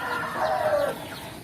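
Free-range village chickens clucking near the nest while brooding their eggs, a busy overlapping chorus of close hen clucks with a short rooster-like call rising in the middle.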